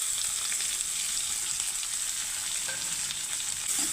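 Crushed bird's eye chilies and shallots fry in a pan, giving a steady, close hiss of bright sizzling that holds evenly throughout with no talk.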